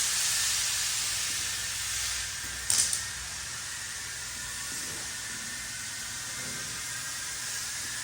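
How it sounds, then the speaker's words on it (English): Compressed air hisses steadily out of a truck's air suspension as it airs down in a shop, a continuous close hiss with a brief sharper burst partway through. "So here's airing down."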